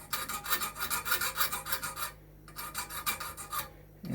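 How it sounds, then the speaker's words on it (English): A fine-tooth file rasps steadily across metal toward a marked edge on a sword guard, about two quick strokes per second in an even back-and-forth rhythm with a brief pause midway, close and clear with no talking. "I'm just going to file down to the edge of that mark"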